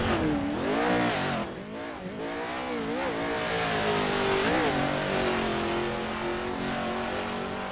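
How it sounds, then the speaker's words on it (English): A race car engine in a racing video game revs hard and pulls away on a victory lap, its loud pitch climbing and dropping through gear changes, with tires squealing briefly along the way. "he pops the clutch for a victory lap"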